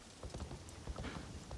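Horse hooves clopping in a steady rhythm on a city street in Assassin's Creed Shadows, a moderately loud, continuous patter of footfalls with no talking.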